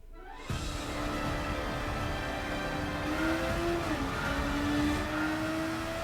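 A Suzuki Vision Gran Turismo race car in Gran Turismo 7 starts up abruptly after a half-second of quiet, then runs as a loud, continuous engine drone that climbs steadily in pitch, with small dips where gears shift.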